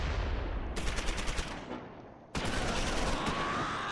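Bursts of automatic gunfire and explosive mortar fire from the World War II strategy game Close Combat IV, one loud volley breaking off and another erupting after a near-silent gap, with no talk.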